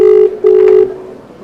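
A phone call rings out with two loud, steady electronic tones separated by a short gap, then fades.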